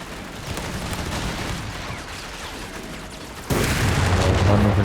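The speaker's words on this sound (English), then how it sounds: "Or maybe it was just their munitions crates here exploding." Munitions crates explode on a battlefield in the Company of Heroes 3 strategy game. Dull booms and crackling blasts rumble continuously, then the level jumps abruptly into a louder barrage near the end.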